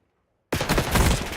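Rapid SMG gunfire in a competitive shooter game match breaks out abruptly after half a second of silence, a dense, loud burst of shots continuing to the end.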